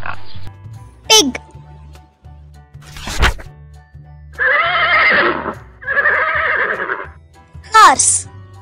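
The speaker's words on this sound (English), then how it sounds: "Horse." A horse whinnies loudly twice in a children's animal-sounds lesson, each call a long shaky neigh, over a soft repeating musical backing with brief squeaky effects between.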